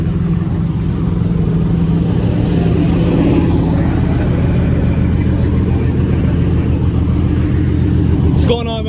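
Lamborghini Aventador supercar engine idling and revving, a loud, close, continuous rumble with rising throttle surges, ending in a sharp burst near the end, while people talk over it.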